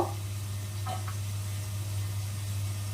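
Vegetables frying in mustard oil in a home kitchen, a soft steady sizzle over a constant low hum, with a couple of brief knocks near the start.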